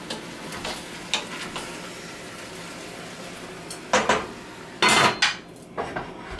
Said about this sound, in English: you put the pots in the oven